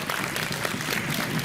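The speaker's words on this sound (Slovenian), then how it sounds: "Dajte si en aplavz." Brief burst of dense audience applause for competing teams on a Slovenian quiz show, loud and steady.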